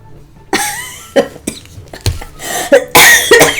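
A series of harsh, loud coughs in quick succession, close to the microphone, with brief pauses between fits.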